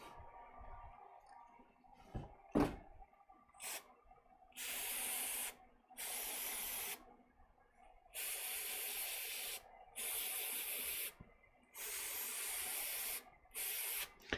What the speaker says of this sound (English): So I'm gonna use contact cleaner.